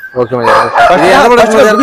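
A rooster at a poultry market crows once, loud and close, in a drawn-out rising and falling cock-a-doodle-doo.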